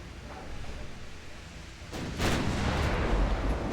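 Naval guns in the Ultimate Admiral Dreadnoughts game fire on a battleship, producing a low rumble that swells into heavier, booming blasts toward the end, at moderate volume.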